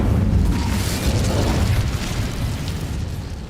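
An Incendio fire spell cast in the video game Hogwarts Legacy, a loud, sustained whooshing roar of flame with a rumbling low end that slowly fades.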